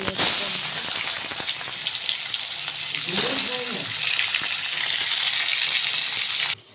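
Fish coated in salt and turmeric frying in hot oil in a home kitchen, with a steady, loud hiss and crackle that runs throughout and cuts off abruptly near the end.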